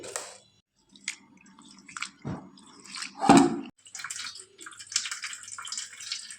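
Multigrain and fenugreek seeds being washed by hand in a bowl of water, giving irregular sloshing splashes and drips in short bursts, close and moderately loud, with no talking.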